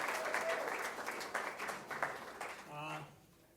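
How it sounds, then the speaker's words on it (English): Audience applause at a community talk program, fairly faint and steady, with a few sharper claps, fading near the end under a brief tonal sound. "Give him a big hand of applause again."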